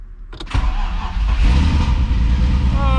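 A small engine fitted to the Clapper fires up after its fuel lines were swapped, catching with a sudden loud burst and then running and revving in a steady, rough roar close by.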